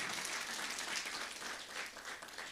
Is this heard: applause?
yes